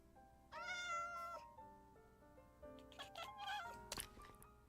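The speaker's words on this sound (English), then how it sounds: "Haha, I got a cat." A cat in a video game meows several times, a drawn-out plaintive call followed by shorter, higher mews and chirps, faint and close with no talk over it.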